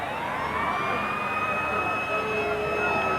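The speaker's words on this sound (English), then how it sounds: "And the siren brings the end of quarter number 3." Stadium siren at a 1993 rugby league match between South Sydney and Canterbury-Bankstown marks the end of the third quarter, a long, loud, steady wail that holds for several seconds over crowd noise.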